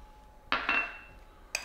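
Oats being mixed into a cookie mixture in a bowl: a few sharp clinks of a utensil striking the bowl, close and fairly quiet, in a short burst with no talking.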